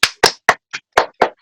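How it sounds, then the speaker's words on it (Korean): Six sharp, separate claps ring out loud and close in an uneven rhythm, each short and crisp with silence between them and no other sound. "박수"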